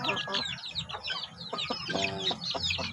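Month-old chicks of a laying breed cheeping and clucking together nearby, a busy, continuous flurry of short high calls with a few lower clucks.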